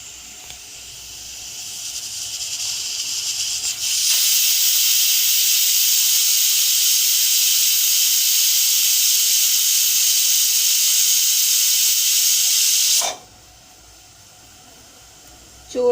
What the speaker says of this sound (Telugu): చూడండి, 6-7 విజిల్స్ వచ్చేసినాయి